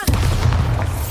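A Bombarda blast spell from the video game Hogwarts Legacy erupts as a loud, deep boom whose heavy low rumble fills the whole moment, with no talking over it.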